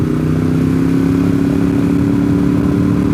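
A motorcycle engine idling close by, a loud steady low rumble with a constant throbbing hum and light mechanical clatter, no voices.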